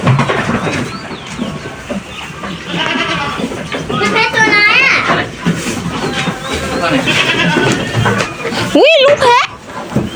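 Goats bleat at a farm in wavering, quavering calls, several close and loud, mixed with children's voices and people talking throughout.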